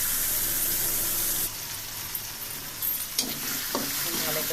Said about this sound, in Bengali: চাউল এবং পোলার চাল এবং ডাল ধুয়ে নিয়েছি এটা করতে আমি ভেজে নেবো